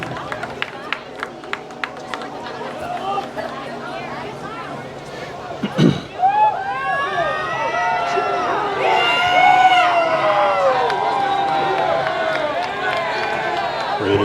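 A crowd in the stands at a boys' high school soccer match between Hudson Raiders and River Falls swells into cheering and excited shouting, rising from steady murmur to a loud sustained roar with some clapping and a commentator talking over it.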